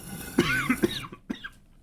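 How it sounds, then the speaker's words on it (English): A short burst of several hoarse coughs close to the microphone, followed by a brief pause and one more cough. "Apologies for the coughing."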